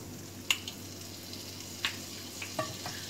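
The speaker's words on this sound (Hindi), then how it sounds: "अब हम एक पैन रखते हैं, पैन में थोड़ा सा बटर डाल के" Butter sizzles in a hot pan on a gas stove while a stuffed kulcha is cooked, a steady soft frying hiss with a few sharp clicks and taps of utensils, no voices.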